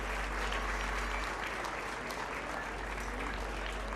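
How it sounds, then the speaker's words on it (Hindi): Audience applause at a school annual fiesta in Hisar, steady dense clapping from a crowd honoring class 10 performers, sustained evenly for the whole stretch with a low hum underneath. "तालियां क्यों रुक रही हैं?"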